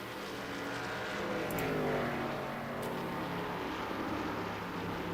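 Steady engine drone of a pace car circling a stock car oval at an all-star race, a continuous mid-level roar with a faint swell midway and no voices.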